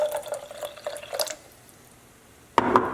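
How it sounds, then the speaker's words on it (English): Apple cider vinegar poured from a bottle into a chipotle honey sauce, a soft liquid trickle with a few drips, fading to near silence before a brief louder splash at the end. "A little bit of apple cider vinegar."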